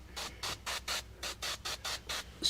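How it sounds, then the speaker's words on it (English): A spray bottle mists water onto a window for tinting a 2004 Jeep Grand Cherokee: about nine short, even hissing bursts in quick rhythm, close and fairly quiet, with no talking. "And then carefully mist toward the top, but don't hit the ceiling."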